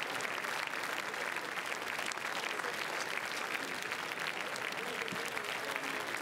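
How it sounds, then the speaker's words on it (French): Applause from a large audience as a film team arrives on the red carpet at the Cannes Film Festival, a dense, steady wash of many hands clapping at even loudness throughout, with no clear voices above it. "Toute la salle applaudit à l'arrivée de toute l'équipe."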